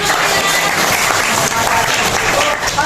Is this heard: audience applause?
yes